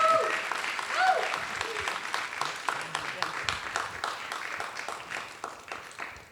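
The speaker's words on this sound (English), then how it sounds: "So can we please give her a round of applause?" Audience applause fills a hall at an evening public talk, a dense patter of many clapping hands that swells early and slowly fades, with a voice speaking over it.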